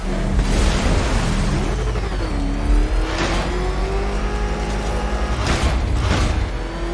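The Batmobile in Batman: Arkham Knight driving and revving, a loud close engine drone with a rising, sliding pitch and several sharp bursts of acceleration, no talking.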